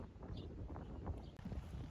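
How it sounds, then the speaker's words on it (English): Gusty mountain wind buffets the microphone with low rumbling bursts, steady and close, with no other clear sounds. "It is windy and there's no sun."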